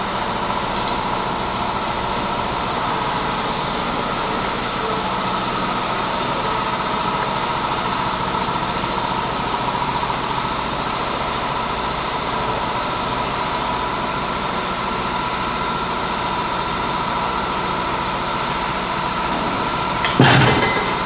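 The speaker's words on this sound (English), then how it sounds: "I'm going to use the lift so we can demonstrate the car going up" A car lift in a garage hums with a steady motorized drone throughout, raising a car, continuous and fairly loud, with a brief clunk at the very end.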